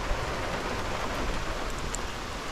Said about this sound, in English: the rain's coming down again, so it's going to be a problem today